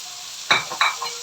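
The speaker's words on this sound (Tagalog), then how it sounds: "Gisa-gisahin natin. At uh, ano po, uh, susunod ko rin po na ilagay yung ating sitaw dito." String beans sauté in a hot pan, giving a continuous sizzle with a few quick scrapes and clatters of stirring close by.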